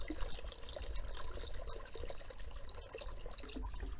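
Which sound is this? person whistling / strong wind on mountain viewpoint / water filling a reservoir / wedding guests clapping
water filling a reservoir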